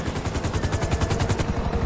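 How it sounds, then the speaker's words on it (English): A police helicopter passes overhead in Grand Theft Auto 5, its rotor beating in a fast, even, loud chop that stays close and steady for the whole two seconds. "MVGA chopper, he's on to us."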